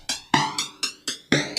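A percussion sample taken from a song intro plays as a looped musical element, with five bright, evenly spaced hits, each with a sharp attack and a ringing tonal decay, loud and close with no voices.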